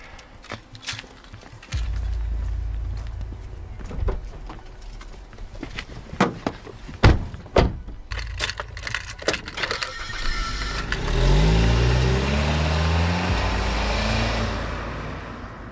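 A car door thuds shut and the engine then starts and revs as the car begins to pull away, preceded by scattered knocks and rustling, close and fairly loud, with no talk.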